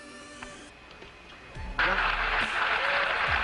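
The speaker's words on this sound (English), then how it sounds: "An extremely loud applause here in Mission Control" Loud applause breaks out in NASA Mission Control after the Apollo 13 splashdown in the South Pacific, swelling suddenly over quieter room noise and radio chatter and continuing as a dense roar.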